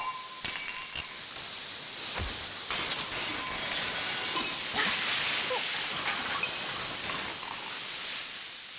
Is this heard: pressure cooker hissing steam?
yes